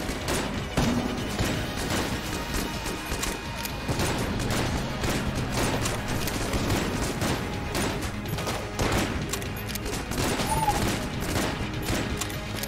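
Rapid shotgun blasts from a battle against a tank in the bullet-hell game Enter the Gungeon, a dense, steady barrage of gunfire and crashing impacts running continuously at even loudness with no pauses.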